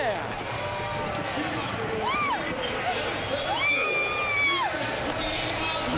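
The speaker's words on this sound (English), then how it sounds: "Listen to the crowd." Dense roar of a large crowd cheering at a 2014 NHRA Toyota Nationals drag race, sustained and loud throughout, with whistles and whoops rising above the din and a commentator talking over it.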